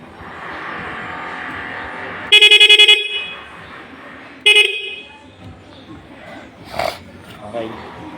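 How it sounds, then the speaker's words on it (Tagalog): A motorcycle horn with an interrupter relay sounds in two short, loud, pulsing honks, one longer than the other, against a quiet background with talk nearby. "Busina."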